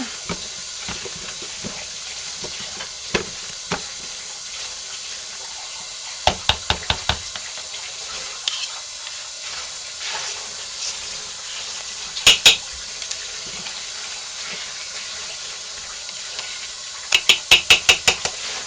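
A spoon or spatula stirring a homemade soap mixture in a pot, a quiet background with scattered clusters of sharp rhythmic knocks and clinks against the pot's sides.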